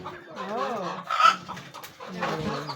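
A hen outdoors gives warbling clucks and a short sharp squawk, close by, with some quiet background noise.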